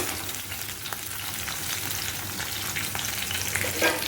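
Chopped onion fries in a pan on a home stove, giving a continuous close sizzle with light crackling and occasional stirring scrapes, steady throughout with no talking.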